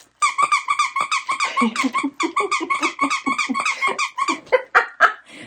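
Squeaky dog toys squeaking in quick, repeated bursts, loud and close, with a steady rhythm of rubbery squeals and no talking over them.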